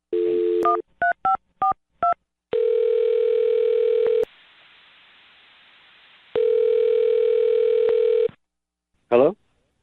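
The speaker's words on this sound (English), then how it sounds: "I'm going to dial his phone number right now" A telephone call being placed on a radio morning show: a steady dial tone, a quick run of touch-tone keypad beeps, then long ringback tones separated by silence, ending with a brief chirp.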